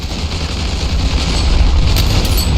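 A continuous, loud roar of battle in Ravenfield's World War I trench warfare mode, with booming explosions and scattered gunfire blending into a dense rumble throughout.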